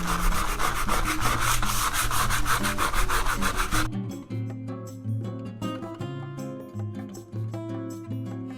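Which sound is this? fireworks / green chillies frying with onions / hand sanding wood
hand sanding wood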